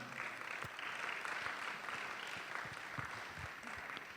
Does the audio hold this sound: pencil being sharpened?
no